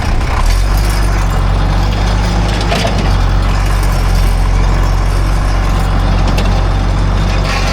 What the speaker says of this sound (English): We got to use the old Case tractor sparingly.